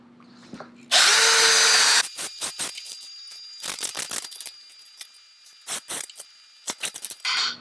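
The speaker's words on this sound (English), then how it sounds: "all you have to do is lock it down with the screws and make sure you're screwing, again, into the right board" A power drill drives screws into the boards of an Adirondack table: one long whirring run, then many short stop-start bursts as the screws seat, close and sharp with no speech.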